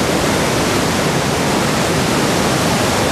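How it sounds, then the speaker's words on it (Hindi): The Gori river rushing along in the Himalayan foothills near Jauljibi, a loud, dense, unbroken roar of flowing water with no voices. "और ये रही अपनी नदी, ठीक है ना, गोरी नदी"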